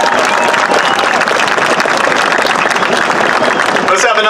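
An audience at a ceremony for Paterson Great Falls National Historical Park applauds the master of ceremonies, a mayor, with loud, dense, continuous clapping and some crowd noise, a voice surfacing near the end.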